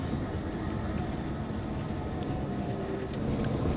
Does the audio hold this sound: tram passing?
yes